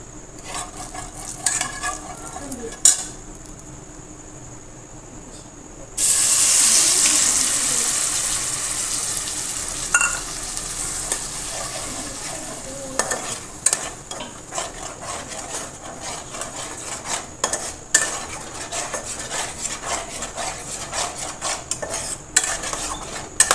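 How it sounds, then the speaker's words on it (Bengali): Momo filling paste being stirred in hot white oil in a pan: a steady scraping and clinking of a utensil over a soft sizzle, continuing for over twenty seconds with a louder burst of frying early on. "দিয়ে ওর মধ্যে দিয়ে দিলাম একটু সাদা তেল, দিয়ে এবার এই পেস্টটা একটু নেড়ে নেব।"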